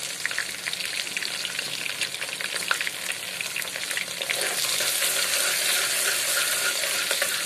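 Small chopped onion sizzling steadily in hot oil for a Telugu pulagam rice dish, a dense continuous crackle that grows slightly louder and fuller partway through, close up with no voices.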